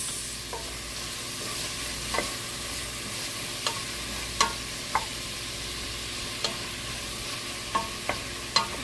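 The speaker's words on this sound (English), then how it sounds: "I'm gonna saute it and just wait for the tomatoes to cook a little bit" Tomatoes sauté in a pan while githeri is cooked, a steady low sizzle under sharp, scattered spoon taps and scrapes as they are stirred.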